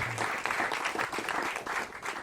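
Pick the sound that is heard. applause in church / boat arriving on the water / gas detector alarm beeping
applause in church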